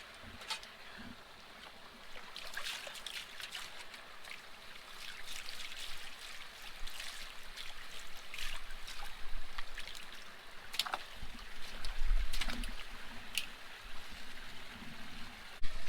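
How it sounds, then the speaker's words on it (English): Water sloshes and trickles as Dream Mats material is washed in a gold pan, with soft, irregular swishing splashes and small pours, fairly quiet and close, alone without talk. "I just did a pan of the Dream Mats material"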